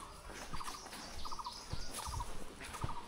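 A coppersmith barbet in Satchari National Park repeats its hollow, evenly spaced tuk-tuk notes in regular short bursts, clear and moderately close amid forest ambience, with no talking.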